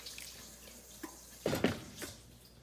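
Water poured into a bowl in a home kitchen while thinning a baked dish, a short splashing trickle over a quiet background.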